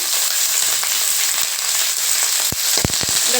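Loud sizzling crackle of curry leaves hitting hot oil, a constant fizzing hiss with sharp pops bursting out near the end.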